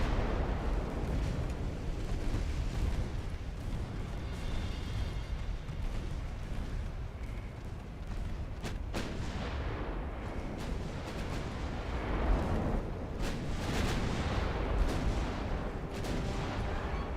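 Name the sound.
naval artillery firing high explosive shells, Ultimate Admiral Dreadnoughts video game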